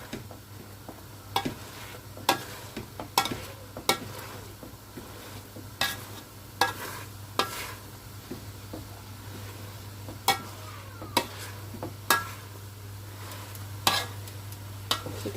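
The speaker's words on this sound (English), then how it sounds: "mash up the saag." A hand masher thumps repeatedly into cooked saag in a pot, with roughly regular soft knocks about every second over a steady low hum. The sounds are close, and no one speaks.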